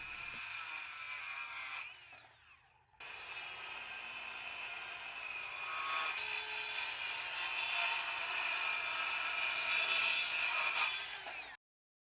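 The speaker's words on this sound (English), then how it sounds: "I'm just cutting everything down to the final length now" A power saw whines loudly and steadily as it cuts wood trim to length, stops briefly, then starts again and keeps cutting before shutting off.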